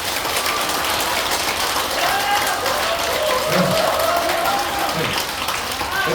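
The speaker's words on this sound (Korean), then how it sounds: "크게 박수 한번" A crowd applauds at a Buddhist memorial rite for fallen patriots, held with a music festival. The clapping is dense and sustained, fairly loud and steady throughout, with faint voices mixed in.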